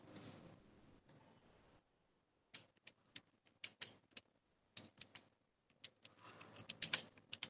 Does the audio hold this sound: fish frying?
no